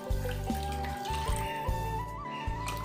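About 2.5 liters of water pours steadily from a tap into a soup pot of meat, a continuous close splashing gush with a rising tone as the pot fills.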